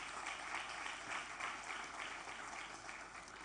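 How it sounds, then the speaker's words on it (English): An audience at a university graduation ceremony applauds for the graduating students, a steady, distant patter of many hands that stays even and fairly faint for the whole stretch with no voices over it. "Please, a big clap for our students."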